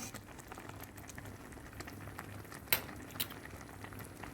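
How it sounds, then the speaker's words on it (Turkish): Quiet, steady bubbling of orange jam simmering in a pot on low heat, with a few soft pops and faint clinks. "Reçelim kısık ateşte kaynamaya devam ediyor."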